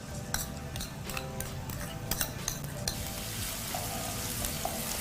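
Onions dropped into hot oil in a pan for a village-style egg masala, giving a steady close sizzle with a few stirring clinks and utensil taps over the frying.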